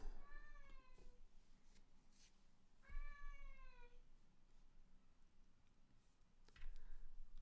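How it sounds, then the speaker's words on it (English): A cat meows twice, clear and fairly close, with a pause between calls in an otherwise quiet indoor room. "Okay, the cat is here."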